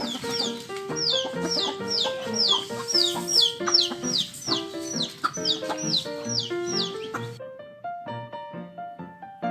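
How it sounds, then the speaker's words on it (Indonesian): Chickens cluck and squawk repeatedly while scratching the ground for food, a busy close layer of clucks running throughout with tuneful music underneath. "Ayam makan biji-bijian. Ayam juga suka mengais tanah mencari makan."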